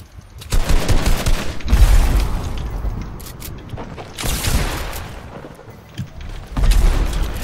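Fortnite gunfire in loud bursts of rapid shots and booms, clustered in several volleys with brief lulls between, close and heavy, with no talk over it.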